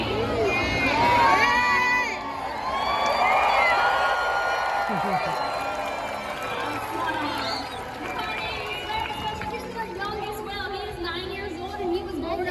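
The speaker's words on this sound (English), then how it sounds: "he needs a loud cheer from the whole stadium" Large stadium crowd at SeaWorld San Diego's orca show cheering for the orca Makani, a broad roar of voices with scattered shouts and whistles, swelling early then settling into a sustained murmur.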